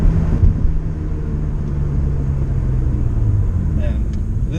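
A BMW E39 528i driving along twisty roads, its engine a steady low rumble heard from inside the cabin, with a faint background hum and no clear changes in revs.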